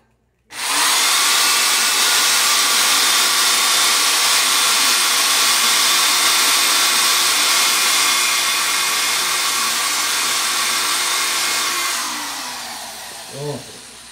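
A power drill boring holes in a wooden broom handle: a loud, steady high whine starts abruptly and runs for roughly eleven seconds before winding down and stopping.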